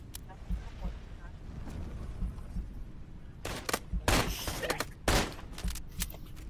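Gunfire in the video game Into the Radius 2: after a quieter stretch, several loud, sharp bursts of shots crack out in quick succession, with voices talking in the background.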